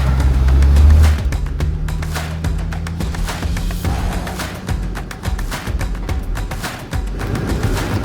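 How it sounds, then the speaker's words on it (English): Four-wheel drive vehicle grinding along a forest mountain track, a steady low engine drone with rattles and bumps throughout, loudest at the start and continuing without talk. "we're recommencing the four-wheel drive right now"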